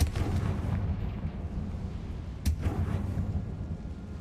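Confringo blasting spell from the Hogwarts Legacy video game, a deep rumbling explosion that rolls on with a sharp crack partway through, loud and heavy in the low end, no voices.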